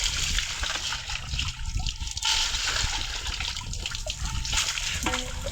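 Water is poured and splashed during a child's bath, with continuous trickling, sloshing and splatter, close and fairly loud, plus a few scattered drips near the end.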